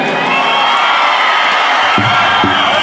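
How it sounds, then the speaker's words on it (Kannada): A large outdoor crowd cheers and roars steadily at a stage show during Kittur Utsava 2025, with dense, loud whooping and shouting that holds throughout and a couple of brief low bursts near the end. "ಹೌದಾ ಚಪ್ಪಾಳೆ ಹೊಡಿಬೇಕಂದ್ರೆ ಒಂದ್ಸರಿ ಜೋರ ಚಪ್ಪಾಳೆ ಬರಲಿ"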